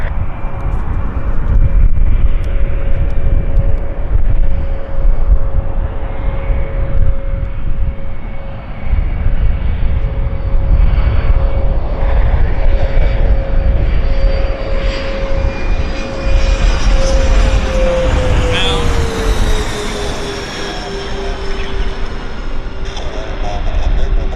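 A Falcon business jet landing at Vancouver airport: a loud, steady engine roar and whine that holds throughout, with a tone shifting downward as the aircraft passes.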